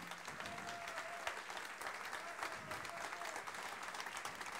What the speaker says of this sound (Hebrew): מגיע לו כפיים.